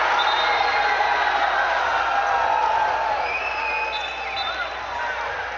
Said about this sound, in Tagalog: Crowd loving that one.